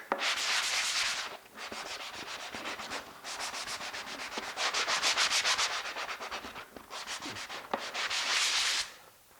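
A drywall putty knife edge is rubbed hard against a harsh surface to wear it down, giving loud, close, rhythmic scraping strokes in several bursts with short pauses between them, and no talking.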